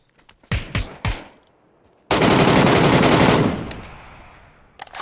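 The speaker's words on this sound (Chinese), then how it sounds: "听到这枪声，你吓不吓人？" Automatic gunfire in a shooting video game, loud and near, starts with a few separate shots, then breaks into a long sustained burst that trails off, followed by a couple more scattered shots.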